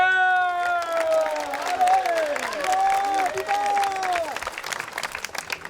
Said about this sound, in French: Vos applaudissements pour messire Luc de Lardière.